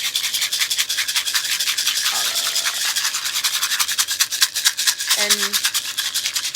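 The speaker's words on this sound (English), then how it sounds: "And you're just going to shake all that out." A rawhide rattle is shaken around the head in a steady, rapid rustling and scraping rhythm, close and continuous, with a brief spoken word and a faint voice partway through.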